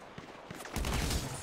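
Gunfire rings out in a GTA V shootout with sharp shots, then a burst of rapid fire.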